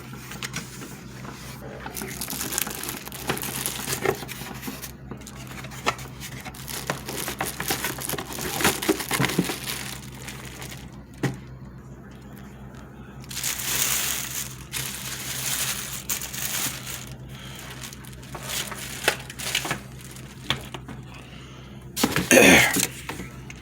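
Cardboard packaging of a Mainstays 9-inch table fan is torn, crushed and crinkled open in bursts of rustling and crunching, with quieter pauses between handling noises and a sharp crackle near the end.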